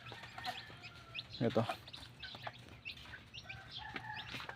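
Chickens cluck and chirp in a farm coop, close and intermittent, with a louder burst of clucking midway and someone speaking briefly.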